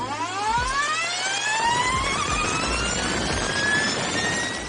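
An Energica Ego electric motorcycle accelerates hard with a loud, rising electric whine that climbs steadily in pitch over rushing wind and road noise.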